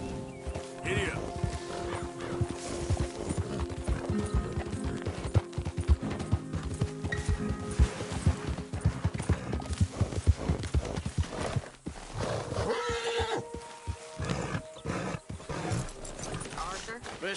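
In Red Dead Redemption 2, a horse's hooves beat in a fast, steady galloping rhythm throughout, with game music and character voices talking over it.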